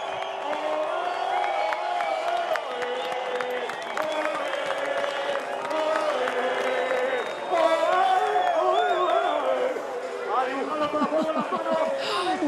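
Home crowd at a freeride ski event finish area at Baqueira Beret, a dense roar of cheering, whoops and chatter, swelling toward the end, with voices talking throughout.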